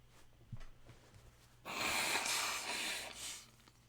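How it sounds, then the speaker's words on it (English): A loud, wet nasal blast lasting nearly two seconds, someone blowing their nose up close, after a quiet stretch with a faint sniff. "I'm gonna blow my nose"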